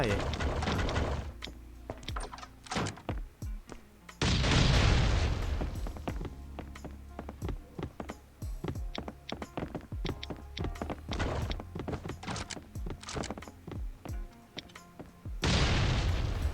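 Bomb blasts in the survival video game Last Island of Survival: a few heavy booming explosions that rise and fall with rattling, thudding debris, set against a steady busy clatter of game effects.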